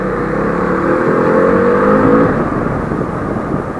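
A road vehicle's engine revs loudly and steadily as the throttle opens, the whine rising in pitch over a few seconds and then settling, close and continuous with no talk.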